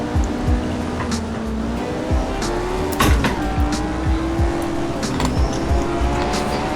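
Lotus Type 49 racing car in the Assetto Corsa racing game, a loud engine note with its pitch sweeping during a braking zone and tires squealing as they lock up.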